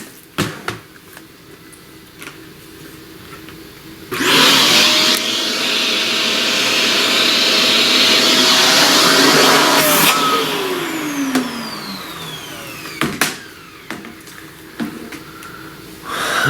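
A vacuum cleaner switches on and drones loudly and steadily for about six seconds, with its pitch sliding as it winds down, framed by quieter handling sounds and clicks before and after during pastel flower drawing.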